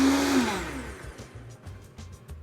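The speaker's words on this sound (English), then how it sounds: "we're gonna just pulse this together until it's well blended" A countertop blender whirs loudly as it pulses eggs, melted butter and other crêpe batter ingredients, starting with a high spin-up, then dropping into short, rhythmic bursts of motor noise.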